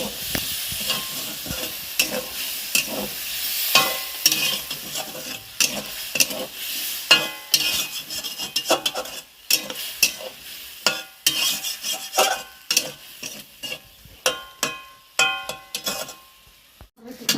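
Potatoes cook in a pan with a little water for a tomato aloo posto, with a low sizzle under repeated clattering stirs and scrapes of a spoon against the pan, close and uneven in rhythm.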